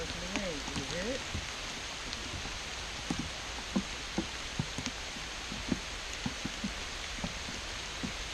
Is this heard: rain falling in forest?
yes